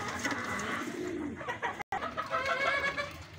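Breeder pigeons cooing and fluttering in their coop during feeding on a rainy day, with soft repeated coos and rustling close by and a brief dropout midway.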